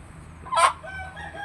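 One short rooster crow from a young gamecock kept for fighting, a single bright call close by and fairly loud, with a quiet farmyard hum before and after.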